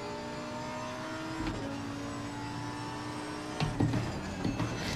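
A racing video game car engine drones steadily with layered harmonic tones, shifting pitch around an upshift, with a few brief louder bumps near the end.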